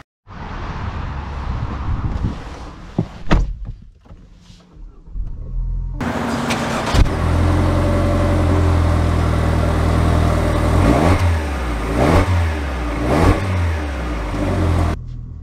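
A 2024 Lexus RX 350 F Sport SUV idles quietly, then its engine swells into a loud, sustained drone as it pulls away and accelerates, with a few thumps and rises in pitch.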